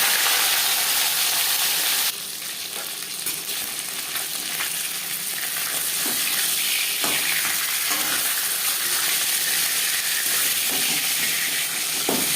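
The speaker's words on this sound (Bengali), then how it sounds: "ভেটকি মাছের ঝোল রান্না করার জন্য এখানে আমি রিফাইন্ড অয়েল গরম করে নিয়েছি।" Bhetki fish sizzles loudly in hot refined oil, a steady close-up frying hiss with crackling pops, heard alone without any talk.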